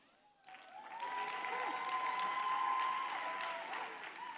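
Audience applause erupts at a tech conference session, rising quickly after a brief quiet into sustained, fairly distant clapping and crowd noise that holds steady before easing slightly.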